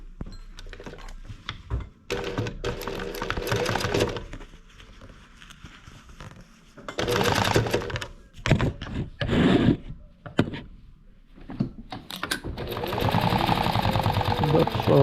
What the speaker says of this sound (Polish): Tutaj kilka razy na tym zamku przeszyję, żeby podczas składania materaca mi się to nie rozpruło.